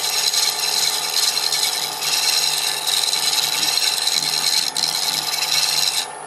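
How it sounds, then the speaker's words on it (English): Negative rake hand scraper run back and forth over a wood surface, a close, continuous bright scraping rasp with slight rhythmic surges, with no talking. "You can simply run the tool back and forth"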